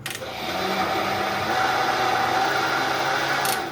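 A blender whirs steadily, mixing rose-flavoured lassi made with yogurt, a loud continuous motor drone lasting a few seconds with no talking.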